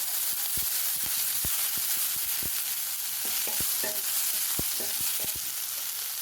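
Curry leaves and chopped onions fry for prawn biryani, a continuous bright sizzle broken by a rhythmic series of sharp spatula scrapes and knocks against the pan as they are stirred.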